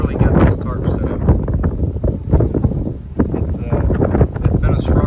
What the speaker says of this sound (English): So it's 20-30 mile an hour winds and we're barely getting this tarp set up.